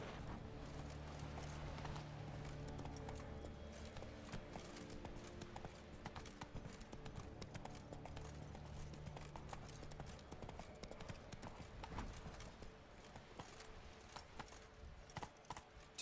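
Steady clip-clop of a horse's hooves in The Witcher 3, a continuous rhythmic trot heard close throughout with game ambience underneath and no talk.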